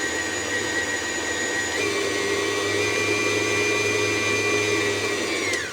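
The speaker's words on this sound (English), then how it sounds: "So we've just mixed it with the attachment." An electric mixer fitted with its attachment whirs steadily through vegan chocolate cake batter, a loud continuous motor drone that shifts pitch briefly partway and winds down at the end, with no talking.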